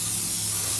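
Steady pressure-washer spray hissing as it rinses a dirty toy Dynamark truck, loud and continuous through the whole short burst with no talk.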